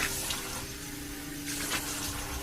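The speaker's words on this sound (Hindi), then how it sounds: "मैं चुपचाप अंदर गया, नल खोला और अपने चेहरे पर पानी डाला।" Water running steadily from a bathroom tap, a continuous close splashing hiss with slight surges in flow, heard alone without voices.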